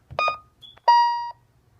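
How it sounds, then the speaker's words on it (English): Smoke detectors chirping as a fire alarm system is reset, two short electronic beeps followed by a faint tone and then a longer, louder beep, clean against a quiet room. "Heard that little chirp out there. It's because it cut power to the smoke detectors."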